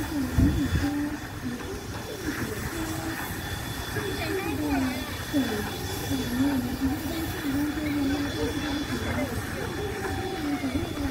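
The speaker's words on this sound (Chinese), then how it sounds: "发现是蒸汽火车来了！" A steam train pulls into Changhua station with a heavy rumbling roll and wavering tonal engine sounds, fairly close and sustained, with voices mixed in.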